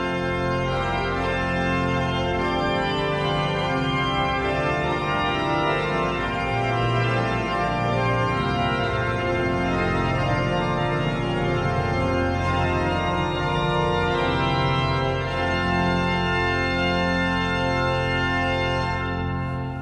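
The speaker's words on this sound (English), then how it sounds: "let's pull out all the stops of the Bovenwerk I" A Hinsz pipe organ in a large church sounds with all stops of its Bovenwerk I division drawn, producing a full, dense, loud, sustained chordal texture that continues steadily and then releases near the end.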